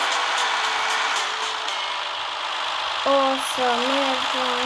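Idling tractor engine in a tractor video game, a steady loud broadband rumble throughout, joined near the end by a few short tonal beeps rising and falling.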